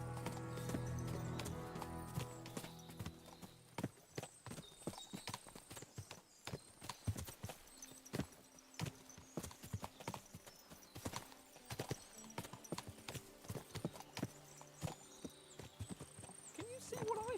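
Many horses clip-clop along in Kingdom Come: Deliverance II, with overlapping hoofbeats in an irregular rhythm over about seventeen seconds, plus an occasional whinny and snort. The sound is fairly close and moderately faint, with some speech intermittently above it.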